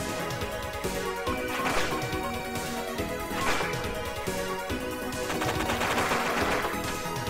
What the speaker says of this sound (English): She's shooting at him.